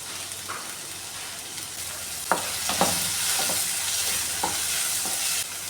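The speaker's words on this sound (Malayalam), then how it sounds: "ഞാൻ കുറച്ച് ചെറിയുള്ളിയും കൂടെ ചേർത്തിട്ടുണ്ട് കേട്ടോ. ഇതൊന്ന് വഴറ്റിയെടുക്കാമേ." Small shallots sauté in a pan with a continuous bright sizzle, joined by a handful of scattered stirring knocks and scrapes, close and without talk.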